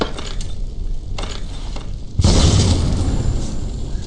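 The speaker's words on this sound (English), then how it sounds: "here's the soul of the ghost, and let's burn it here in the fire." In the House of Fear escape horror game, a ghost's soul is burned in a fire: a steady ambient wash is followed by a sudden loud whooshing burst that roars on as a dense, sustained blaze.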